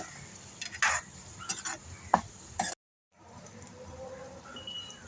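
Amaranth greens being sautéed in a pan: a run of sharp spatula scrapes and stirring clatters over a low sizzle, then a brief dropout before a quieter, steady frying hiss returns.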